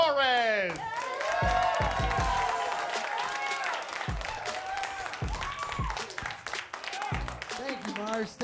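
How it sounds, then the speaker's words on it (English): Studio audience applauding a stand-up comedian at a Chicago comedy show, steady clapping and some cheering throughout, with a host's voice calling out over it. "A big round of applause for Jon Torres."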